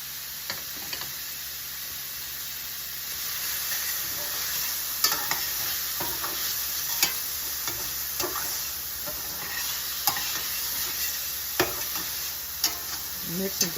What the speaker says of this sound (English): So in comes our peppers and onions.